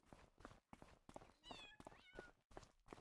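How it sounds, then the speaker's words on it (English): Cats meowing in the farming video game Farming Simulator 25, a string of short, repeated mews at a quick, uneven pace, close and clear, ending with a soft thump. "I can hear meows."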